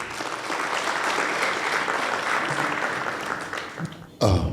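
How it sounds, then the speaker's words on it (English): Delegates at a 2024 doctors' union special delegate conference clap steadily as a crowd, a dense sustained applause filling the hall for about four seconds before it breaks off abruptly, with a brief louder sound at the very end. "Brothers and sisters, clap up for Chairman Dr. Abidan Mwachi Mushemi."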